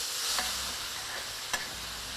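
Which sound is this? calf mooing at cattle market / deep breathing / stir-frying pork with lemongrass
stir-frying pork with lemongrass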